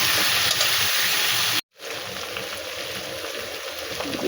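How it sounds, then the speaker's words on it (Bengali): Masala spice paste with turmeric frying in hot oil in a pan, a loud continuous sizzling hiss that cuts out abruptly for a split second and then resumes just as steady. "অল্প একটু হলুদ দিয়ে দিয়েছি এইবারে আমি মশলাটা ভালো করে ভেজে নেব"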